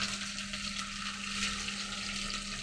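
Chopped onions and ginger pieces fry in hot oil, giving a steady, even sizzle that holds for a few seconds with no one speaking.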